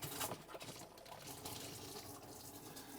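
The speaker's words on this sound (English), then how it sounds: "water's coming out of the faucet there perfectly" Water runs steadily from a kitchen faucet in a campervan, a continuous close hiss and splash of flow into the sink that holds at an even level throughout, with no voices.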